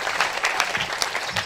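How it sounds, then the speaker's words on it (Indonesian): A short stretch of steady audience applause at an Islamic boarding school's tenth anniversary celebration, many hands clapping together at moderate volume. "Boleh tepuk tangan buat seorang"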